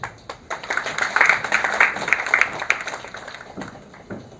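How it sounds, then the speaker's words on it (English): An audience at a Women's Day celebration claps in a dense burst of applause that swells, then gradually thins and fades toward the end. "give her a big round of applause"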